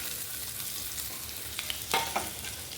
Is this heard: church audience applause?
no